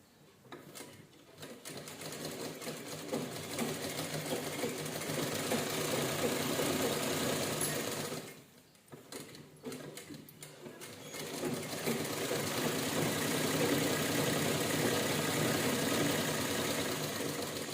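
A sewing machine stitches a pillow cover in a steady mechanical whir that runs loud and continuous, halts briefly near the middle, then starts up again and keeps running.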